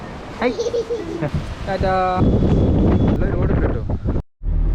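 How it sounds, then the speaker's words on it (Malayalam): Strong wind roars and buffets against the microphone in heavy low gusts in the Nelliyampathy hills, while a voice speaks briefly near the start. "ഭയങ്കര കാറ്റ് എന്ന് പറഞ്ഞാൽ ഭയങ്കര കാറ്റ്"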